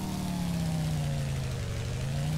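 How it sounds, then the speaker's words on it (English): A car exhaust drones steadily at a low, even pitch, close and continuous like an engine holding near idle, with no talk over it. "No, that was the exhaust that does that sometimes."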